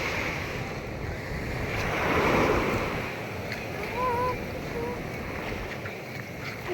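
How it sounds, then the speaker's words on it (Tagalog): Ocean waves growing stronger around a small boat, a steady wash of surf swelling and falling with wind buffeting the microphone and faint voices in the background. "papalakas yung alon pa"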